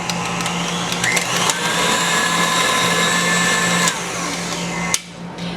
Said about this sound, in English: I'm going to continue to mix this on high for another minute until it gets some more air incorporated into it.